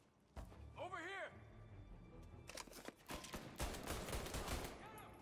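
Bursts of rapid gunfire from the video game Mafia Definitive Edition come in clustered volleys, fairly close amid other game noise.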